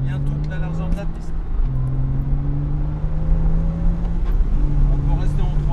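Porsche Cayman S engine accelerating on a race track, a steady droning note rising in pitch through the gears, heard from inside the car under continuous instructor talk.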